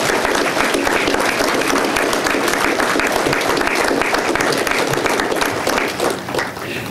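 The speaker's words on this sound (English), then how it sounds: "let's give them a big warm applause" A large crowd applauds military veterans and their families at a Memorial Day remembrance ceremony at a national cemetery, with dense, steady clapping that stays loud and sustained throughout before easing slightly at the end.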